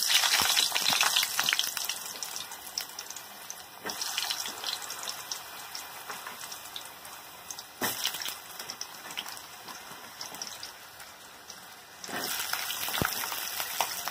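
Potatoes sizzle and crackle steadily in hot oil tempered with whole cumin in a wok, a dense frying hiss with occasional louder bursts as pieces are stirred.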